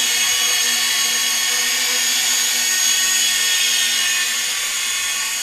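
A Metakoo Q323 quadcopter drone hovers nearby after automatic takeoff, with a loud, steady high-pitched whine of spinning propellers, constant throughout.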